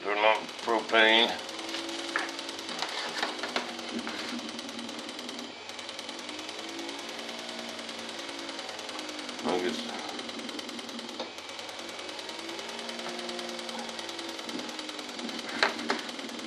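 An RC jet turbine in an F-105 Thunderchief model whirs and clatters mechanically during a propane start attempt, with a speaking voice over much of it.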